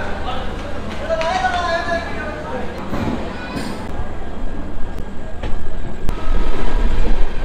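The Sealdah Puri Duronto Express pulls out of Sealdah station with a loud, building rumble and rhythmic clatter of wheels on rails, while voices talk nearby over the train noise.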